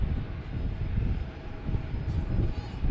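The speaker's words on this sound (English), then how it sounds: "Got one taking off on 1-5." An airliner taking off on runway 15 at Reagan National Airport (DCA), a low rumbling engine roar heard from a distance, brief and steady, with faint talk nearby.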